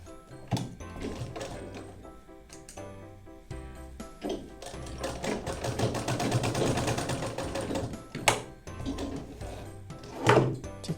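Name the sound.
sewing machine stitching blouse lining pieces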